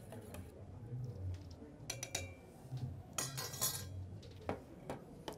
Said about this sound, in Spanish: Rompo estructura, apenas bato, no necesito espuma